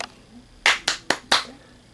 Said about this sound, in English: I'm giving it the max of 5 out of 5 claps